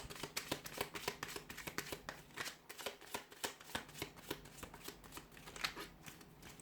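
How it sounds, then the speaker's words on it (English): Tarot cards shuffled by hand, a rapid run of crisp riffling flutters and soft card slaps repeating in quick irregular bursts, close and fairly quiet, with no talking. "Let's give the cards a shuffle"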